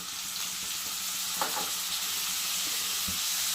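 Onion paste and three dried red chillies fry in hot oil for a liver curry, giving a steady, close sizzle with a few brief stirring scrapes and no speech.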